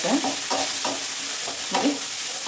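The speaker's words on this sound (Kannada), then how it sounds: "ಆನಿಯನ್ ಹಾಕ್ತಾಯಿದ್ದೀನಿ. ಆನಿಯನ್ನು ಫ್ರೈ ಮಾಡ್ಕೋಬೇಕಾಗತ್ತೆ." Onions fry in hot oil in a pan with a loud, bright sizzle, while several quick scrapes of stirring come through over the short stretch.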